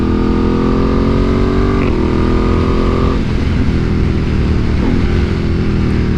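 A 2025 Ducati Panigale V2 motorcycle runs hard and loud up close, its engine note climbing and dropping abruptly at quick-shifter gear changes, over constant wind roar.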